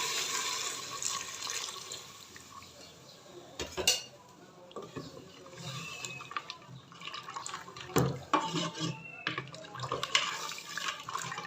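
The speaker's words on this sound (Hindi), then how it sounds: "जो यखनी इसके अंदर से निकाली थी उसको वापस इसके अंदर डाल देंगे" Broth being poured back into a pot of paya (cooking trotters), with liquid splashing and dripping, clinks of a metal pot and utensil, and a few sharper knocks, close and moderately loud.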